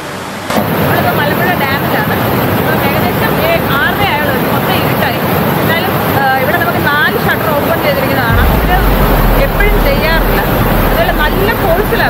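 Water rushing with strong force at Malampuzha in Palakkad, Kerala, makes a loud, steady roar that fills the whole stretch, with voices talking over it.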